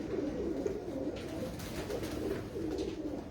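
Pigeons coo softly in a quiet setting, with a low, rolling, repeated call that continues steadily throughout.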